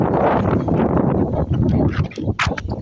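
Gusty wind buffets the microphone in a rough, continuous rush, with a few brief higher-pitched rustles near the end.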